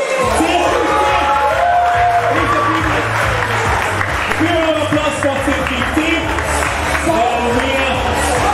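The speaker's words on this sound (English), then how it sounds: "Please a big round of applause for Team 6." A crowd at a digital test closing ceremony applauds and cheers for a team placed second, loud and sustained clapping with whoops and shouts over eight seconds, mixed with talk and a low musical hum beneath.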